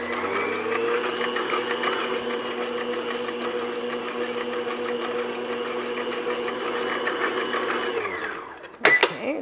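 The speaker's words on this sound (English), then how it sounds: "I'm just going to beat this to break up the egg whites until they're foamy. Just to like medium speed." Electric mixer beating egg whites at medium speed for a chocolate sponge cake, a loud steady whirring drone close by that holds for about eight seconds before winding down, followed by a few clanks against the bowl.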